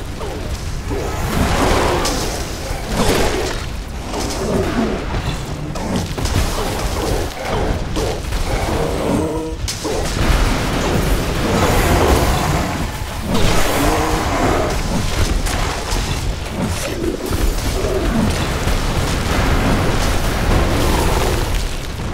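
Repeated booming explosions and crashing destruction as buildings are blown apart in the sci-fi base-building game The Riftbreaker, loud and dense with continuous rumbling bursts throughout.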